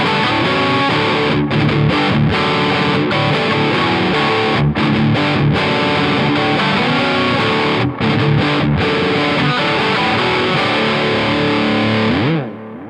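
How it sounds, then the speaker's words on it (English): A distorted rock guitar tone through a Dark Times delay pedal, loud and continuous with driving chords and brief breaks in the playing, subtly thickened by delay before ending with a short slide. "it will help make a good rock tone sound even better."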